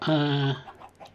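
A single Minecraft chicken cluck rings out clearly in the video game, a short harmonic cackle of about half a second, followed by faint game ambience.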